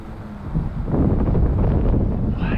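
Gusty wind buffeting the microphone at a model airplane flying field, a steady low rumble that swells and stays loud throughout, with no voices.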